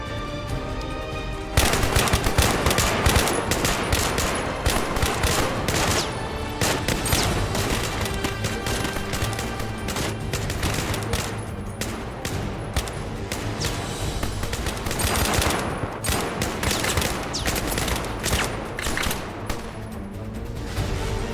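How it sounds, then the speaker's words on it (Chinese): Sustained machine gun fire in a military drama battle scene, dense overlapping bursts and booms running almost continuously and loud for about twenty seconds after a brief quieter start. "开始射击。"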